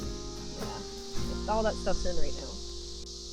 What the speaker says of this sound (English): It's the 17-year breakout of cicadas.